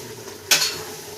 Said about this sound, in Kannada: ಆ ಪೇಸ್ಟನ್ನು ಹಾಕಿ ಮಿಕ್ಸ್ ಮಾಡಿಕೊಳ್ಳಬೇಕು